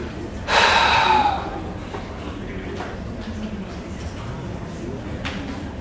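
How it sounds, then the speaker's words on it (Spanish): A single deep breath drawn during a guided breathing exercise in an emotional education workshop: one strong breathy inhale near the start, lasting about a second, then a quiet room with faint background noise. "Vamos a hacer una respiración."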